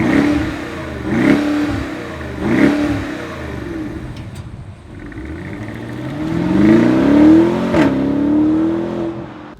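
A BMW X7 50i M Sport's 4.4-litre V8 revs hard several times in quick bursts, then winds up in a long, rising pull with sharp exhaust pops, loud and close.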